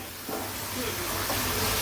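Onions frying in hot oil for chicken biryani give a steady close hiss and sizzle that swells after a brief quieter start and stays continuous.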